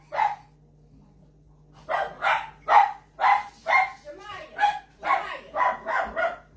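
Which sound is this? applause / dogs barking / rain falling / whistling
dogs barking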